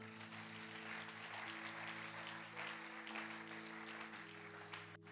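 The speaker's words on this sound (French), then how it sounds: "Est-ce qu'on peut acclamer le Seigneur?" A church congregation applauds the Lord with continuous, even clapping that fills the whole stretch over a steady droning tone underneath.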